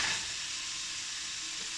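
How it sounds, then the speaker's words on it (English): A pound of beef dropped into a hot frying pan to brown, giving a steady, close sizzle and crackle that holds evenly throughout with no talk. "And we're now going to take our pound of beef and fry her up."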